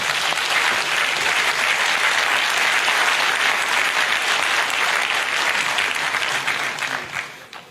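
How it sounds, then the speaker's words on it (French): An audience gives a loud, sustained round of applause, thick and continuous for several seconds before it quickly dies away at the end. "Je vous demande de l'applaudir."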